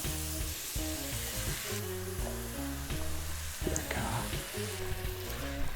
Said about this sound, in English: Can you hear that sizzle there? That's just from the water deglazing slightly.